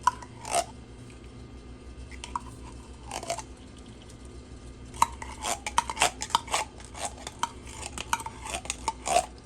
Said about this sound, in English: So I'm gonna add 2 cans of the tomato paste.